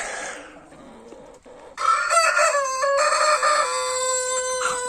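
A rooster crows loudly and close, its long call following quieter clucking from hens, with two roosters in the flock.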